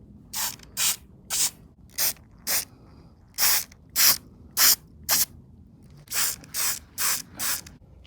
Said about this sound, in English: We'll get a little coat of flat black on here just to keep it from rusting.